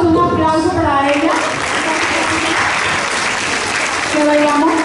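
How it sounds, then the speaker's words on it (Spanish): Audience applause fills a dance academy's showcase at an artistic marathon, steady and loud, with a voice speaking over it at the start and again near the end. "un aplauso para ella"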